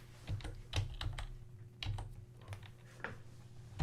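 Quiet typing of code on a computer keyboard, with irregular clusters of soft key clicks and taps separated by short pauses, close and faint against a low background hum.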